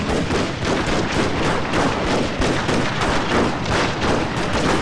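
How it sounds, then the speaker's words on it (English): Rapid Gatling gun fire from a Shogun 2: Total War battle, a continuous loud stream of evenly spaced shots with booming impacts throughout. "there goes the Gatling gun"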